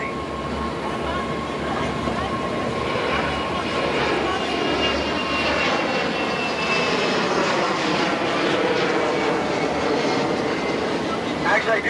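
A broad, steady roar from an aircraft flying overhead in Washington, DC, fills the whole stretch, loud and continuous with a slow swell, over faint background voices.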